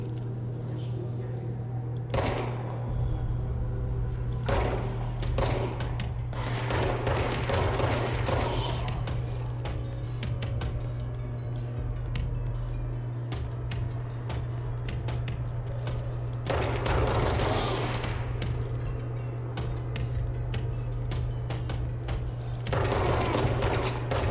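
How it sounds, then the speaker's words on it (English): Gunfire in the video game Control while shooting guards from a raised position, a long stretch of repeated shots and rapid bursts over a constant low hum, with loud clusters spaced through it. "I am going to try and shoot the guards from up here this time"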